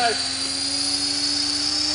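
A T-Rex 500 RC helicopter sitting on grass gives off a loud, steady high-pitched rotor and motor whine that holds an even pitch throughout, with a voice talking over it.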